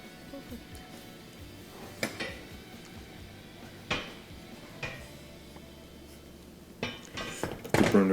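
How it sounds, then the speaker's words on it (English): Metal clanks and clinks ring out as a burner grate is set back onto a Wolf gas stove, several sharp knocks spaced apart, ending in a louder cluster of rattling contacts. "Put the burner grate back in position."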